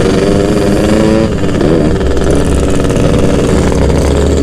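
A Kawasaki Ninja motorcycle engine idles close by, giving a steady, loud, continuous rumble with no speech over it.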